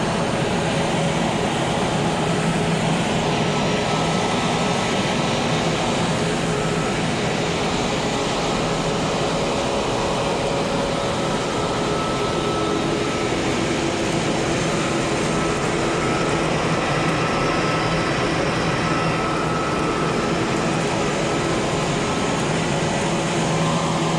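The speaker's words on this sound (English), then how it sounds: "This dryer, it's run with it's got a pretty good sized fan on the front of it." Large grain dryer at a grain handling, storage and drying facility, its sizable front-mounted fan running with a steady, loud, unbroken roar and whine throughout, with no talk.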